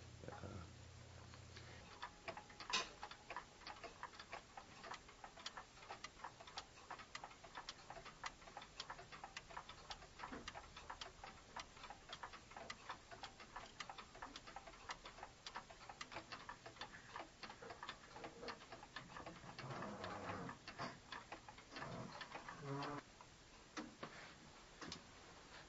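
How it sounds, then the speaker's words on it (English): Handmade wooden geared clocks tick steadily and evenly, with a soft, close, continuous rhythm that runs throughout, and no voices. "What I like about the wooden geared clocks, and what's always attracted them to me, is its sound is vibration, and the sound of metal through metal"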